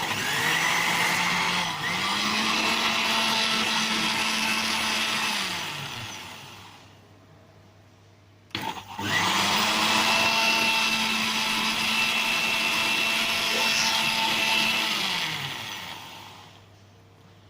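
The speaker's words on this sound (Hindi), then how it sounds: "फटकरी डाल के इसको फिर हम मिक्सी में चला के इसका" A kitchen mixer grinder whirs as it blends cooked leaves with alum, running loud and steady for two long spells. Each spell is followed by a winding-down hum, and a brief jolt comes between runs.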